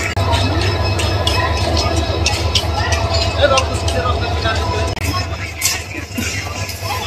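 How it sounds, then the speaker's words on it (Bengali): A train sits at a station in Bangladesh on the Bogura–Santahar line while its engine is uncoupled; a steady low rumble and idling drone with clanks and scattered knocks continue under background chatter and platform noise. "রেল লাইনের ইঞ্জিনটা খুলে ফেলতেছে এখন।"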